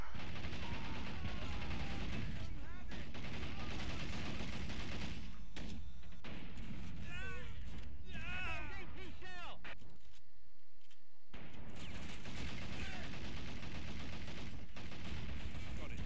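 Sniper shots and scattered gunfire in the World War II strategy game Men of War: Assault Squad 2, mechanical clicks and distant shots under a steady battle din with some voices.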